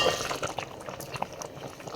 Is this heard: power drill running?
no